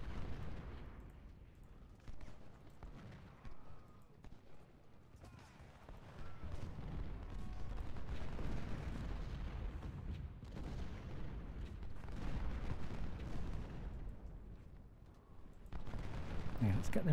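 Civil War battle at Henry Hill in the video game Ultimate General Civil War: dense rolling musket volleys and booming rumble swell and fade in waves, a continuous low roar of massed gunfire.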